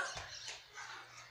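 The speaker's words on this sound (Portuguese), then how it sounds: "Gente, aqui é a nossa cachorra." Pet dog at home gives faint short barks and whimpers at a distance, a few quick yips in a quiet room.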